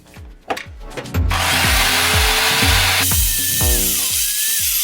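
A mitre saw with a depth stop set cuts into timber: a rapid run of rhythmic low thumps as the blade spins up, then a loud, sustained bright cutting whine that shifts pitch midway before tailing off.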